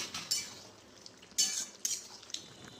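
Potato and soybean curry being stirred in a pot, a spoon scraping and clinking against the metal in a few sharp, separate strokes, close and fairly quiet with no talk.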